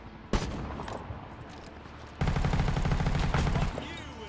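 Bursts of MG5 machine gun fire in the video game World War 3, a sharp shot followed after a pause by a sustained loud rattling stream, with game noise and a voice talking around it.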